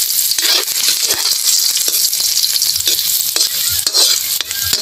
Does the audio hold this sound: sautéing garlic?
yes